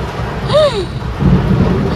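A thunderstorm with lightning and rain over a road produces a low, close rumble of thunder that swells in the second half, after a brief rising and falling tonal whine.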